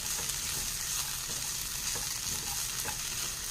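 Okra fry being stirred as it cooks, a steady bright sizzle with soft scraping stirs and small clinks repeating throughout, close and moderately quiet.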